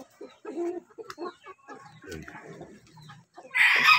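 Native chickens cluck and chatter close by in a busy run of short calls, ending in a sudden loud flapping or squawking burst.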